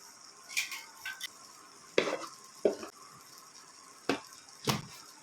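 Tomato curry is stirred in a pan with a spoon, producing a handful of distinct scraping clanks spaced a second or so apart over a faint background sizzle, with no talking.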